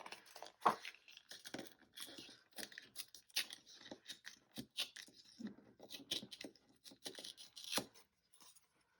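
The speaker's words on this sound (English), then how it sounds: "let me try to do another tear here" Paper is torn slowly by hand into a scrap, a close, quiet run of irregular ripping and crinkling bursts lasting several seconds, with no voices.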